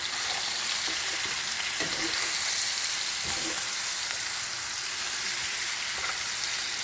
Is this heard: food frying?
yes